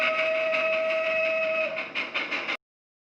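A train runs on rails, its sustained horn tone held over a rumbling roll for about two and a half seconds before it cuts off abruptly into silence.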